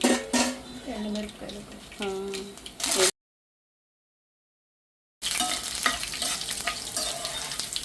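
Mustard seeds, urad dal and chana dal sizzle in hot oil for a Telugu tempering, with a spoon stirring and scraping the pan; the frying breaks off briefly midway, then resumes loud and close.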